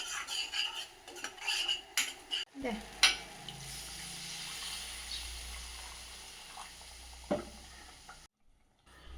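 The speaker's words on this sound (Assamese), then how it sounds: "আৰু এয়া এতিয়া মই দি দিছোঁ উতলা পানী।" Boiling water poured into a hot pan of fried mustard seeds, a sharp hiss and crackle that settles into a softer steady bubbling, after a run of utensil clatter.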